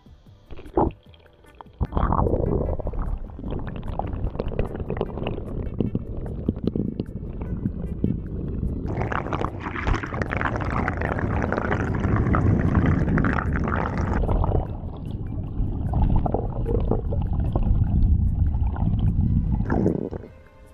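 Dasani water is poured onto a camera, pouring and splashing steadily for several seconds, close and loud, with a rushing gurgle that swells midway and then stops abruptly.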